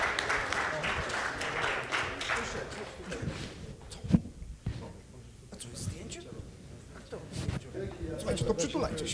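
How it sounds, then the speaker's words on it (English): At the 60 Million Congress in Miami 2023, an audience claps for everyone on stage, scattered uneven applause that fades and returns, with murmuring voices and movement noise mixed in. "Can I get a big round of applause for everybody on stage?"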